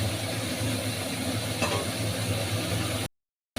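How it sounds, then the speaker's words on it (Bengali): Masala is sautéed and stirred in a pan for an ilish fish head curry with potol and potato, a steady close sizzle with soft scraping that cuts to silence near the end. "মশলাটা ভালোভাবে আমি এইভাবে কষিয়ে নেব"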